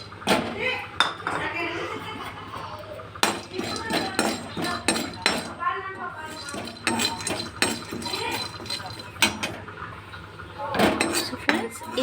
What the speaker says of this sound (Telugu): సో కడాయిలో యాజ్ యూజువల్ ఇందులో ఎలాంటి ఆయిల్ వేయకుండానే డ్రైగానే వేయించుకోవాలి